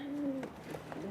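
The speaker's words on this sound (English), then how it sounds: "2 pigeons in an official pigeon carrier" Two pigeons in a pigeon carrier coo softly, a short gliding call at close range followed by faint rustling.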